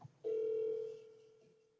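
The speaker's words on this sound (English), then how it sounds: "I'm calling her." A ringback tone sounds on an outgoing phone call, one faint, steady tone that holds for about a second and then slowly fades.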